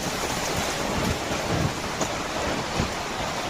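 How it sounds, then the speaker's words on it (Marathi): Heavy rain pours steadily in Baner-Balewadi, Pune, a dense, loud hiss of drops with occasional low rumbles beneath. "बघा भाऊ आता आता मेन खास पाऊस झाला जोरात बघा"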